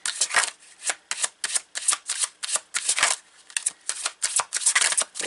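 Tarot cards are shuffled close up in a long run of quick riffling bursts, each a papery flutter. The bursts come almost back to back with a steady, fast rhythm.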